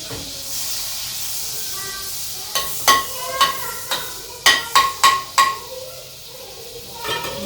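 Butter and a spoonful of oil sizzle in a kadai while making cream of tomato soup, a soft steady hiss broken by a run of sharp spoon knocks against the pan.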